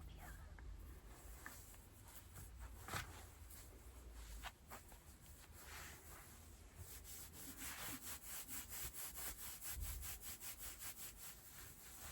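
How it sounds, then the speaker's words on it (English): Fingertips scratch a fabric scarf from Segovia, Spain, in soft, close strokes that grow into a steady rhythm, very quiet, with faint hushed speech underneath. "What do we think about fabric scratching?"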